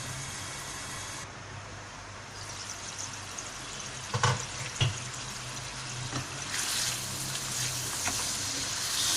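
Beef liver (kaleji) frying in masala gives off a steady, even hiss that holds throughout, with a couple of brief clinks midway and the noise brightening toward the end.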